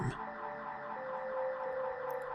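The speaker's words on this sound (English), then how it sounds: "It was a high-pitched car alarm you'd hear anywhere, but in the middle of the woods." A high-pitched car alarm wails steadily, heard as a sustained electronic siren-like tone ringing out in the middle of the woods, continuous and fairly loud with no talking.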